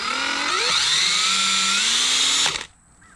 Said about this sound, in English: we'll go ahead and just make a little mark with our drill